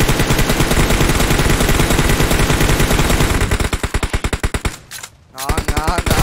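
Sustained automatic gunfire sprays in PUBG Mobile, loud and rapid. A dense stream of shots breaks into distinct bursts, then cuts to silence before more fire resumes. Voices talk underneath.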